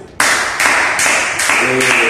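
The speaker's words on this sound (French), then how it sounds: "Applaudissez pour vous." A room of people applauding themselves, with dense, loud, continuous clapping that swells in waves and a faint voice underneath.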